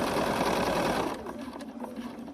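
Sewing machine stitching quilt pieces together: a steady, close mechanical whir with a fast rhythmic chatter that drops to a quieter, lighter hum partway through.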